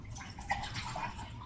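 Water poured from a cup of mineral water into flour batter for Filipino puto, a soft close splash and trickle lasting about a second and a half.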